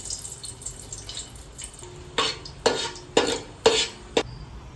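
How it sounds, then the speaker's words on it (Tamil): Raisins fry in two tablespoons of hot ghee in a pan, with several loud stirring and scraping bursts in an uneven rhythm over a faint sizzle. "காஞ்ச திராட்சையும் வறுத்து எடுத்துருவோம்."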